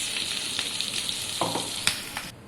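Chillies fry in oil in a pan, sizzling and crackling steadily, with a few clinks of a utensil stirring, close and fairly loud.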